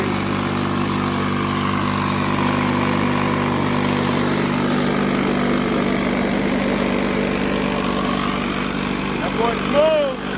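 A lawn mower engine runs steadily after a full service, a continuous mid-pitched hum with a brief sputter near the end and no talk over it.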